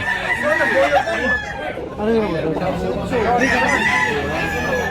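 Several roosters crow over one another at a busy chicken market in Tabunok, Cebu, with clucking and steady background chatter from people throughout.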